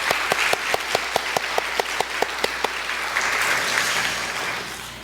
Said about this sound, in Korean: 박수로 격려하도록 하겠습니다.